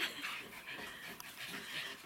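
A dog pants quickly and softly close by, a steady run of short breathy huffs with a faint whimper.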